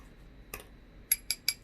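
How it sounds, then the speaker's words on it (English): A glass blender bottle for a Teami Mixit blender handled at close range: one soft clink followed by three sharp, bright glass knocks in quick succession, with no voices. "It's a glass bottle, no plastic."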